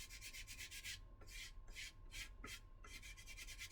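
A flat sanding block is rubbed back and forth over the trailing edge of a wooden model wing, giving close, soft rhythmic rasping strokes in steady repeated passes against a quiet background.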